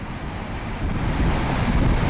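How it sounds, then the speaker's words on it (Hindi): The rain-swollen Chenab river rushes as floodwater after the Salal dam gates were opened, a continuous heavy roar of churning water with deep rumbling, loud and unbroken throughout, with no voices. "पानी की आवाज़ आप सुन सकते हैं"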